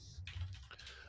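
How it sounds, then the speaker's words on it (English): Computer keyboard typing in quick, uneven bursts of clicks, fairly quiet over a low background hum, with no voice heard. "But I'm typing it right now, and I'm typing and talking."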